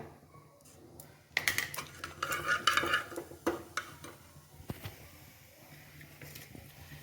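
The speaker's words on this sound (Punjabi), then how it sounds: "ਜੀਰਾ ਆਪਣਾ ਭੁੰਨ ਲਿਆ ਭੁੱਜ ਚੁੱਕਿਆ ਹੈ" Cumin seeds roast in oil in a pot with a soft sizzle, broken by several sharp clinks and scrapes of a spoon stirring against the metal, close and moderately loud.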